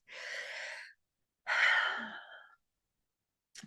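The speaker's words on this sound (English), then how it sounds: "Another nice deep breath." Two slow, deep breaths come close and clear, a long inhale and then a fuller exhale with a breathy sigh, separated by silence.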